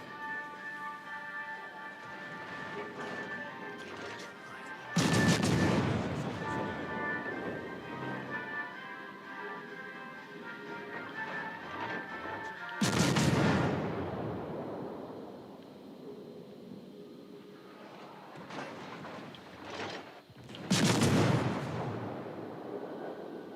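Heavy cruiser Zara firing armour-piercing shells in the video game World of Warships: three deep, booming salvos roughly eight seconds apart, each with a long rumbling tail over a quieter music and ambience bed, with no talk.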